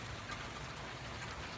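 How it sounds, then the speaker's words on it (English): Light rain falling outdoors during Hurricane Dorian, a faint and even patter that holds steady throughout, with no voices. "Raining a little bit."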